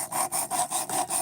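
A blade is stroked back and forth over a 220-grit sharpening stone in about six quick, even passes, a close, gritty rasping with a steady rhythm and no voices.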